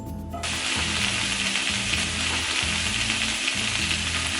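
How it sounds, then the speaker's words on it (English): Peppers and onions sizzle steadily in preheated olive oil in a pan, a loud continuous frying hiss with a faint rhythmic clicking beneath it and no talking. "Make sure that we preheat the pan first, and then we're gonna sizzle up these veggies."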